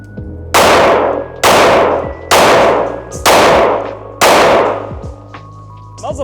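Five loud, sharp gunshots from a Smith & Wesson M&P 5.7 pistol ring out at a steady, unhurried pace, each crack followed by a ringing tail and echo, with no talking.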